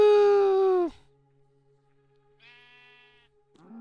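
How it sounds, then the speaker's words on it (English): A video-game sheep lets out a loud, sustained bleat that cuts off abruptly, then after a quiet pause a second, fainter bleat follows. "Bye-bye, sheep."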